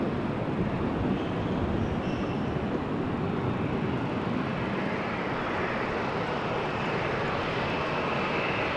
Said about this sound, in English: Air Canada Star Alliance also on the move, on its way to a gate or runway 24.